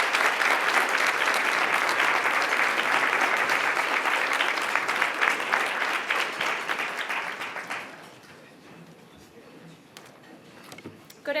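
Loud, sustained applause from an audience welcoming Chief Polly Olson to the stage, a dense crowd clapping for about eight seconds before fading away into quiet room noise.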